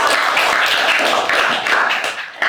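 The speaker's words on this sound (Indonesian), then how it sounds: "tepuk tangan sekali lagi untuk kalian semua" A class of students clapping together for themselves in a classroom, a steady dense patter of hands with no voices, fading slightly toward the end.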